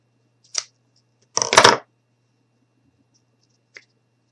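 Scissors snip off excess material on a small craft gnome, a few brief quiet cuts and rustles with a short cluster of snips in the middle and silence between.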